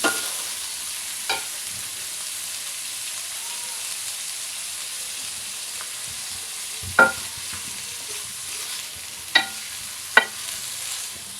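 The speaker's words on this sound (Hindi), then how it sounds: "मीडियम पे इसको जो है वो फ्राई करेंगे हम लोग, ताकि इनकी कड़वाहट जो है वो अच्छी तरह से दूर हो जाए।" Sliced karela (bitter gourd) fries over medium heat in a pan, a steady rain-like sizzle that runs throughout, with a few sharp utensil taps now and then and no talking.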